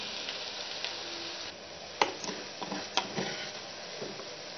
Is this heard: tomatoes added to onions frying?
yes